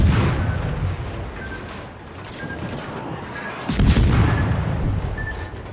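Naval guns fire in a World of Warships destroyer battle: a deep boom and sharp blast burst out near the middle over a steady rumbling engine and sea ambience, with faint periodic beeps.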